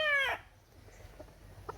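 A chicken lets out a loud, strained vocal call in the first third of a second, likely a cluck or squawk, followed by a few faint scattered clucks and rustles against quiet background.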